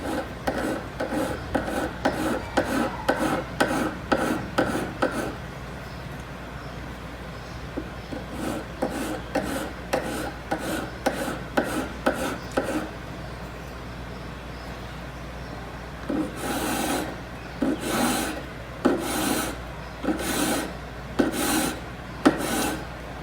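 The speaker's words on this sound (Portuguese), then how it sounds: "Você pode estar utilizando também a quina da lima se for o caso" A metal file rasps against the inside of a pair of pliers in steady back-and-forth strokes, several quick runs, a short pause, then heavier, slower strokes, close and alone.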